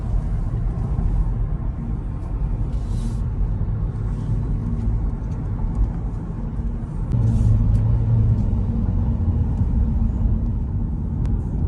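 A 2021 Honda Civic climbs the winding Doi Suthep mountain road, its engine a steady low in-cabin rumble with road noise that rises slightly as it pulls uphill.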